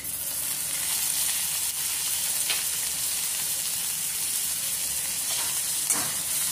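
Chopped onion and ginger garlic paste frying in hot oil with chilli, bay leaf and cumin for a Bengali curry, a steady close sizzle and hiss throughout with a few faint stirring scrapes.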